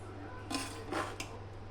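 Two or three soft scrapes of a ladle drag gently through chicken biryani rice in a pot, brief and quiet against a low steady hum.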